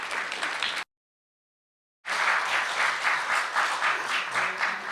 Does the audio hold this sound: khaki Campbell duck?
no